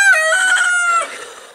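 A rooster at a farmstead house gives a single loud, close crow of about a second and a half, strong and harmonic, tailing off at the end with no voices present.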